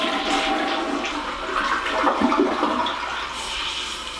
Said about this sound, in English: That is the sound of a toilet flushing in our Barndominium.